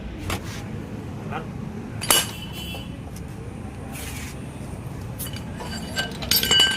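Metal clinks and one sharper knock as a jumper pipe is kicked onto the main stand axle of a Hero Splendor Plus motorcycle at home, heard over a steady low background hum.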